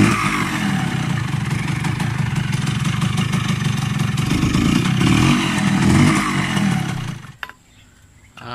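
A Kawasaki KH100 motorcycle engine runs loud and steady with throaty revving for about seven seconds, then cuts out abruptly into near silence.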